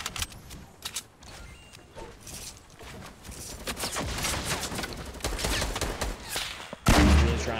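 Rapid sustained gunfire from a minigun in Fortnite Battle Royale, a dense continuous burst building over several seconds, loud and close, with a heavy impact near the end.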